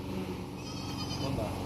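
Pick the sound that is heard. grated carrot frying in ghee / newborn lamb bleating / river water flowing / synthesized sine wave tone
newborn lamb bleating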